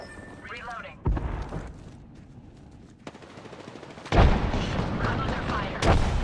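Gunfire in the battle royale game Apex Legends during ranked play, with bursts of automatic fire and booms starting around one second and swelling near the end, loud and dense under game voice lines.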